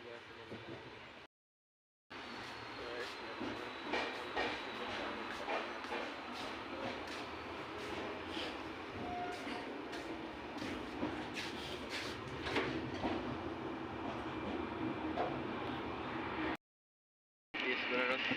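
A passenger train rumbles along on a long overnight rail journey from Guwahati to Orissa, giving a steady close interior roar with faint rhythmic clatter and occasional squeals, briefly cut out near the start and end.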